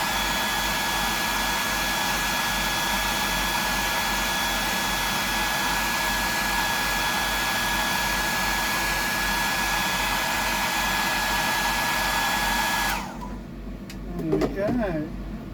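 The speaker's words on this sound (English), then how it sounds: "My gun, the air gun, which is just a hairdryer." A hair dryer used as an air gun blows steadily to dry paint on a custom fishing lure, a loud continuous whir with a faint whine, then clicks off near the end as a voice starts to speak.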